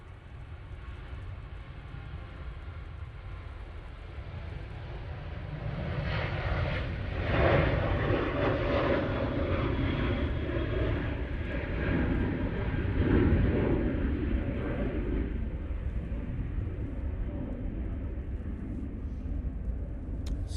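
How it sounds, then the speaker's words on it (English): A Ryanair Boeing 737-800 rolls for takeoff at Manchester Airport, its steady jet engine roar swelling gradually and holding loud, broadband and fairly distant for about twenty seconds with no voices. "That Ryanair's moving. 737-800 now on the roll."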